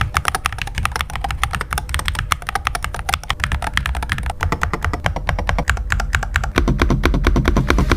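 Steady, rapid typing on a Hall effect magnetic-switch keyboard, crisp, even clacks in a fast continuous rhythm, close up and alone.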